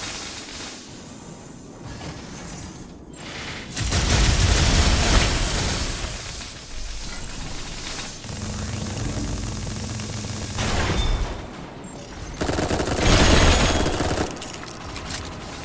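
Two SMGs in the video game Dolls Nest fire in several sustained bursts, with loud rattling volleys and quieter gaps between them and no talking.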